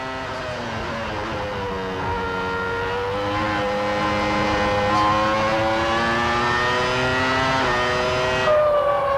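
Formula 1 race cars at the 1996 Australian Grand Prix, including a Brian Hart V8, howl past with rising engine pitch, loud and close, several cars layered together.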